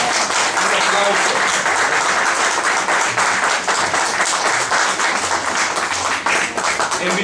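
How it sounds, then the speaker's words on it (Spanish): Audience at a cultural institute event claps loudly and continuously for several seconds, a dense, even wash of applause with faint voices underneath. "un reconocimiento a ella y un aplauso"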